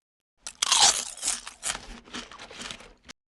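Potato chip crunched while eating, a few close, crisp crackling bites in quick bursts, fairly quiet and with no talking.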